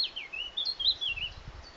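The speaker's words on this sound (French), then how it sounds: "le chant des oiseaux" A single bird sings a quick, warbling phrase of high chirps, close and clear, with faint rustling underneath.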